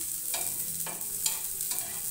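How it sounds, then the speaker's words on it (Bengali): Cashews and raisins frying in a pan for fried rice, a steady close sizzle with a few brief stirring scrapes, no talking. "কাজু কিশমিশটা একটু লাল মতো করে ভেজে নেব।"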